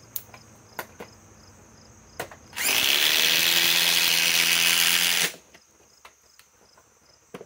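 A DEWALT DCF845 impact driver on a FLEXVOLT battery fires in one loud burst of about three seconds, a rising motor whine with hammering rattle, between scattered light clicks and handling knocks.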